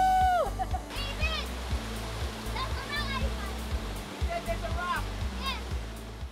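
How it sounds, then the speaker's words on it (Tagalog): Bokong Waterfalls in Sagada, a popular swimming spot, pours with steady broadband roaring water, while children's voices and shouts ring out intermittently over the rush. "popular na paliguan pa rin ang Bokong Waterfalls"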